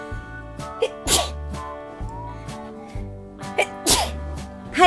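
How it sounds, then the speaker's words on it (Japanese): A few loud, sharp sneezes burst out over a steady background of music, spaced irregularly, with the last one coming right at the end. "ちょっと待って、 くしゃみが出る。"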